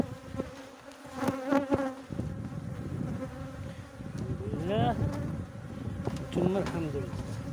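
Honey bees buzz continuously at a honey-producing beehive, a dense steady drone close to the microphone with a few louder individual passes, while someone talks over it at times.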